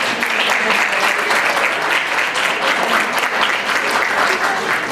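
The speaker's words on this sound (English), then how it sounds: "Can we please give them a round of applause one more time?" A university mock debate audience applauds a Clinton/Trump style debate, with steady, dense clapping from many hands that holds evenly for the whole stretch, with faint voices underneath.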